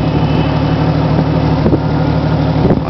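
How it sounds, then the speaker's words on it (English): Four-wheeler ATVs run next door in deep snow, their engines giving a steady, continuous low rumble at moderate distance with no voices heard. "Oh, he's got the four-wheelers out."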